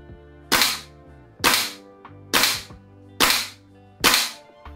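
A VFC airsoft LAR (FAL) rifle fires five sharp, evenly spaced shots, each a crisp crack with a short mechanical tail, close and alone.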